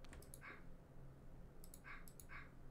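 A dog in a video game gives a few short, bright yips or whimpers, spaced apart over a steady low background hum.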